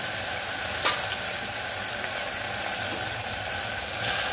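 Grated potato frying in hot oil in a pan for a sweet-and-spicy potato dish, a continuous crackling sizzle heard close, with a brief clink of a utensil early on and no talking.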